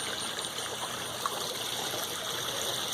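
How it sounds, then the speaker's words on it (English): Water from a backyard garden pond waterfall flows steadily in a soft, continuous splashing trickle, heard from nearby at low volume with no voices. "Let's go back up here, look at the waterfall."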